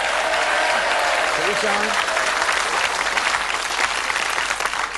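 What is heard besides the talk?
studio audience applause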